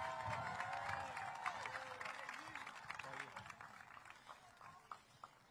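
A crowd at an outdoor parade applauds and cheers for an athletic director taking the stage, steady clapping fading gradually under an amplified voice and background noise.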